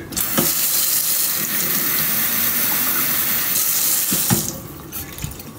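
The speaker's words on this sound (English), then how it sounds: "I'm gonna do the good old fill up the water bottle and just dump it on the bed" Water running from a tap to fill a water bottle at a bedroom sink early in the morning: a steady, loud rushing splash lasting several seconds, then easing off toward the end with small knocks, no talking.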